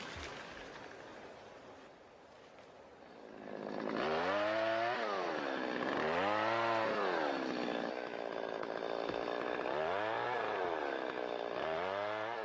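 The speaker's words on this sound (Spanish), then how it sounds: "aun cuando hoy ruja la motosierra donde antaño resonaban por el bosque los golpes rítmicos de las hachas" A chainsaw felling trees in a snowy forest idles quietly, then roars up and revs hard in repeated rising and falling bursts, loud and close, with no voices.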